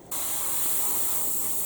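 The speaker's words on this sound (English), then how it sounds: "I'm slowly airbrushing the primer. As you can see, the primer sprays out super smooth out the airbrush." An airbrush sprays primer in a continuous, even hiss that starts abruptly and holds steady and close throughout, with no voices.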